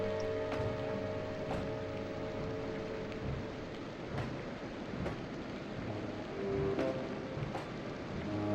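Steady, dense rainfall hisses continuously throughout, with a broad rumbling undertone and occasional sharp drop-like ticks; no voices are present.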